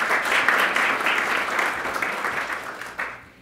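Conference audience applauding loudly in a large hall, steady dense clapping that continues for several seconds before ending abruptly.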